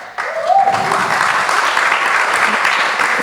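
An audience applauds steadily and loudly as artists are welcomed onto a stage at a talk event, dense clapping sustained throughout with no pause.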